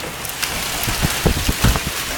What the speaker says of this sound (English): I don't know if you can see the hail under that motorhome next to me